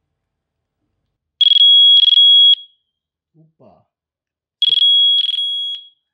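A Nokia N95 mobile phone plays a stock alert tone, bright high electronic beeps in a quick pulsed burst, a pause with a brief voice, then the same beeping pattern repeats loudly.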